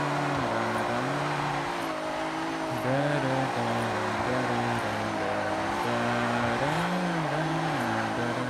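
A car engine in the Forza Horizon racing game revs loudly and continuously, its pitch climbing and dropping repeatedly as the driver shifts and loses RPM.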